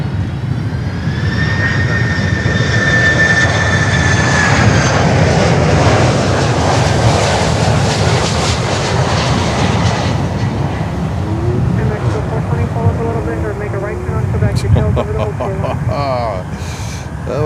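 Jet airliner touching down at Miami airport, a loud sustained engine roar with a rising whine that fades and settles into a lower rumble, with a person talking over it.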